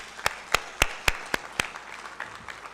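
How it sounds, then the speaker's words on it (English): Sharp, separate hand claps ring out about every quarter second from a few people in an audience at a national health care quality improvement conference, six distinct claps followed by faint scattered clapping that dies away. "give him a more louder hand clap"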